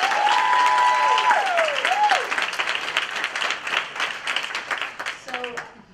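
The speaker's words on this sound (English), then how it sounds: "So why don't we give like a big round of applause." An audience at a conference applauds steadily, dense clapping from a crowd that tapers off toward the end, with a brief voice near the start.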